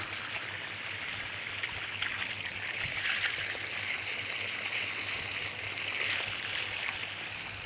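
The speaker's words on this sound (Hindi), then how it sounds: "ये देखिए एक मोटर है यहाँ पे, इसकी पानी इस खेत में जा रही है ये वाली" Irrigation water pours from a motor pump into a farm field, a steady broadband rush and splash that holds evenly for several seconds, close and continuous with no talking.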